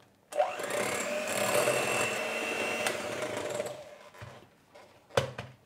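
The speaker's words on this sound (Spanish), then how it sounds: "la incorporamos con las varillas batiendo también a baja velocidad" Electric mixer with whisk attachments beating lemon brownie batter at low speed, a steady close whir that runs for several seconds, then stops, followed by a brief knock.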